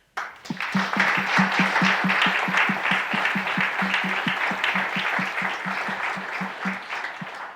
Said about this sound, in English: Let's give a round of applause for all the volunteers here tonight.